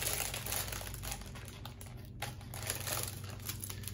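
Plastic packets of diamond painting drills are cut open with scissors, giving quiet, close crinkling and rustling in short irregular bursts, with no speech.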